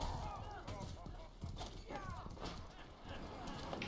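A horse in the medieval combat game Mordhau trots with rapid clip-clop hoofbeats amid dense game noise, with a brief whinny, fairly close and under a busy mix.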